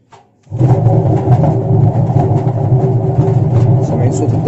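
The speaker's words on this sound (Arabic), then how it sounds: "في بوش واضح اهو، وادي صوت رمان البلي اللي فيها." A worn drum bearing in a washing machine rumbles loudly after a brief quiet start, giving a steady, gritty low drone with rough grinding texture that continues unbroken as the drum turns.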